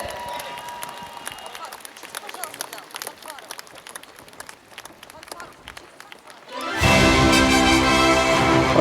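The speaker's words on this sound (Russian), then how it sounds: "Ваши громкие аплодисменты!" Loud audience applause and clapping from an outdoor crowd at a Chuvash Republic Day celebration on the Red Square in Cheboksary, starting abruptly after a stretch of background music and crowd murmur and continuing to the end.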